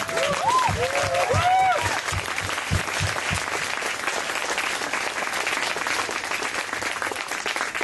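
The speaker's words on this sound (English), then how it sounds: "Let's give them all a round of applause and a very big thank you." Graduation ceremony crowd claps in sustained, dense applause that runs steadily the whole way through, with a few cheers and whistles rising early on.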